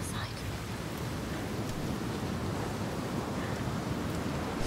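Ocean waves in the video game Hellblade II form a continuous, loud wash of broadband surf noise, steady and roaring with no clear breaks, heard on their own without talk.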